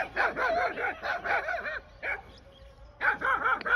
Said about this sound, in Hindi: देखो पपीज कितने बड़े हो गए, ये कुलचे को भौंकने आ रहे हैं